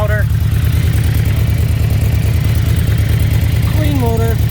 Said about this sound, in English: Healthy motor. Sounds as it should.